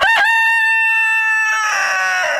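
A rooster at a farm with a barn and chicken coop lets out one loud, close cock-a-doodle-doo crow lasting about two seconds, with a short rising burst at the start.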